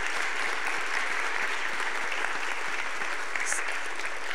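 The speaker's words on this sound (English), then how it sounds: "I'd like to give them a round of applause." Sustained applause fills a Unity Temple gathering as the congregation claps for volunteers, a dense, even wash of many hands at steady loudness throughout.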